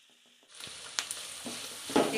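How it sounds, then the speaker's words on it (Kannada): Onions with a little salt frying in hot oil in a pan, a soft sizzle rising as they go in, with a few close scraping stirs and clinks over the steady crackle, no voices. "ಈರುಳ್ಳಿಗೆ ಒಂದು ಸ್ವಲ್ಪ ಉಪ್ಪು ಹಾಕೊಂಡು ಫ್ರೈ ಮಾಡ್ಕೊಳ್ತೀನಿ."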